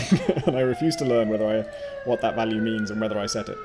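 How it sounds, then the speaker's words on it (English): Emergency vehicle sirens wail outside in Vancouver, rising and falling tones steady behind someone talking close to the microphone, moderately loud. "Sorry about the sirens. It's Vancouver."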